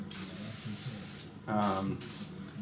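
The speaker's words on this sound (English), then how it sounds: "So I'm just going to spray the inside of this." An oil base sprayed onto the inside of a soap mold for hot process wine soap gives close, steady aerosol hissing, with a louder burst in the middle, while a person talks over it.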